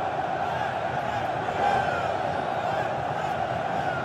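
Corinthians supporters in the stadium during a match against São Paulo: a steady, distant roar of crowd cheering and chanting, with no clear individual voices.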